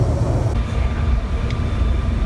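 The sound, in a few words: train moving, leaving Milan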